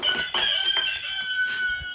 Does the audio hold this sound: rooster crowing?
yes